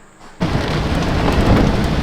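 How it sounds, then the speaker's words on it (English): Heavy tropical rain in Borneo, Indonesia bursts in suddenly after a brief quiet moment and roars on as a loud, dense, continuous downpour with a low rumbling undertone. "The rain is intense."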